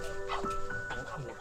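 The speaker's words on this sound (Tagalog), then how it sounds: "May aso pa doon, oh." A dog barks somewhere along a rough dirt trail on a bike ride near Blue Lagoon, Norzagaray, heard briefly and moderately close beneath steady conversation.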